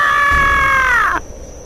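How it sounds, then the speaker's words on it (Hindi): A woman in a horror cartoon lets out a loud, sustained scream lasting about a second, sliding slightly downward before cutting off abruptly into a low background hum. "इतना सुनने के बाद ही वो जोरों से चिल्लाई"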